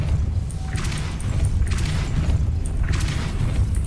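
Magical Depulso force spell cast in the video game Hogwarts Legacy, loud whooshing bursts with booming thuds repeating roughly every second and a half over a steady rumbling game backdrop.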